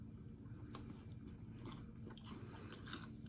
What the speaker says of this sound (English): It's a Turkish Kit Kat. Dido Kit Kat. We'll just take a bite of it.